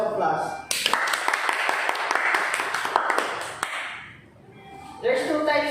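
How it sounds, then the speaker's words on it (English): Classroom applause as a group of students claps for a classmate, dense rapid claps lasting several seconds before fading, with voices resuming afterward. "Give him a round of applause."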